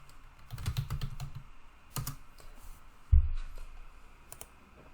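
Close, crisp typing of a search for Windows Server on a computer keyboard, irregular bursts of key clicks with a few heavier thumps and short pauses between, no voices.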